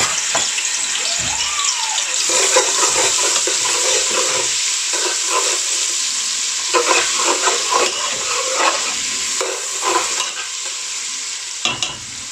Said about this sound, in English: I'm going to add some garlic ginger paste.